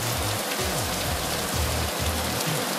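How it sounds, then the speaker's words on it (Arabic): Rain falls steadily on a mountain, a dense, loud, unbroken hiss of drops with low rumbling underneath and no voices. "امطار"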